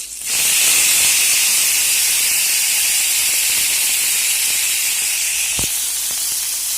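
Tomatoes dropped into a hot pan with curry leaves and green chilies give a loud, steady steam-like hiss that holds for several seconds, with a couple of faint clinks near the end and no talking.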